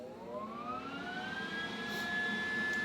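A Lincoln Electric spool gun motor, loaded with a spool of aluminum wire and grounded to cardboard, spins up on power with a steady whine that rises slowly in pitch, running alone and fairly loud.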